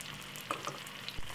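Garlic beef steak pan-frying over medium heat gives a soft, steady sizzle with a few light stirring clicks and scrapes, quiet and close, no talking.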